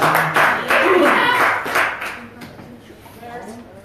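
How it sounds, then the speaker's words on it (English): An audience member claps a few quick, close hand claps in a studio show, sharp bursts over the first couple of seconds before quieter room sound and faint talk. "Thanks, Shiloh, for clapping at weird random times."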